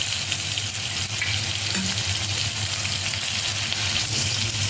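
Chili garlic paste fries in a hot pan on low gas for a potato bhaji, giving a steady, dense sizzle and crackle with a low hum underneath.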